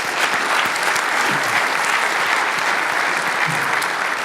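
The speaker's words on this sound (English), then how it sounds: "I'd like to have a round of applause for our panel members and speakers." Sustained applause from a conference plenary audience for panel members and speakers, dense, even clapping filling the room, with a faint voice or two murmuring underneath.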